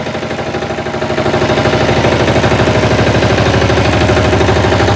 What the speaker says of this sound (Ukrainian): Дуже приємно працює двигун.